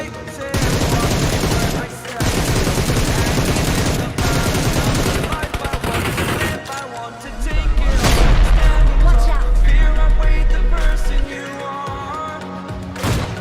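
Video game gunfire crackles in rapid automatic bursts, loud and close, with brief pauses, then a heavier booming stretch with deep low rumble under continuing shots.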